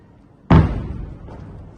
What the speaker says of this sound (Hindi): जोरदार धमाके हो रहे हैं इस वक्त।